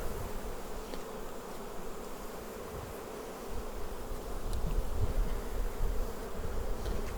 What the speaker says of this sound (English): These bees have probably never flown in their lives.